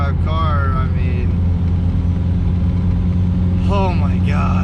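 A 2006 Mitsubishi Evo 9 MR, an all-wheel-drive car making 400 wheel horsepower, runs with a steady, close, deep engine drone while people talk excitedly over it.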